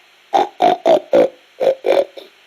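Someone in the video game Metal Gear Solid: Peace Walker imitates a pig with a run of six short, snorting oinks in quick rhythm, close to the listener.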